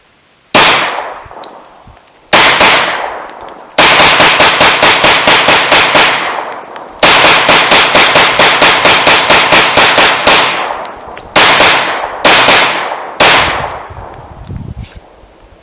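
Rapid gunfire from a factory 10mm Glock G40 fed from a Kriss magazine, loud close shots in several long strings and shorter bursts, with brief pauses between.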